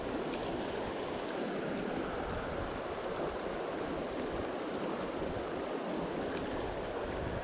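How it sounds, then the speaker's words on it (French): A river in trout-fishing country rushes steadily, a continuous broadband roar of flowing water with no voices. "Dans cette magnifique rivière."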